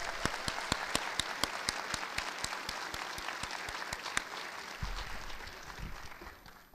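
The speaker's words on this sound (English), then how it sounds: "let's get another round of applause for these guys" Audience applause at the Indiana's Cookin' 2014 cooking event: sharp, evenly spaced claps stand out over a softer patter of clapping, which thins and fades toward the end.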